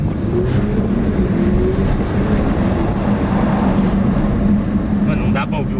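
A Porsche engine hums steadily from inside the cabin, low and muffled with a constant drone, while people talk over it throughout.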